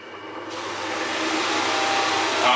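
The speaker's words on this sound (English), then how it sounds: "I have my wood lathe here on maximum speed." A wood lathe spins a polishing disc loaded with brown compound at maximum speed, about 2000 RPM, for polishing a sheet metal compressor cover. A steady, loud broadband whir rises as the disc comes up to speed and holds, with no talk.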